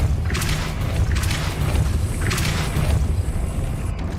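The Depulso force spell cast in the Hogwarts Legacy video game: loud, booming whooshing bursts in quick succession, about three of them, over a heavy rumbling background.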